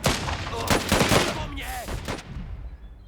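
Bursts of gunfire from infantry combat in the video game Last Train Home, rapid overlapping shots in a loud fusillade, with muffled voices mixed in before fading.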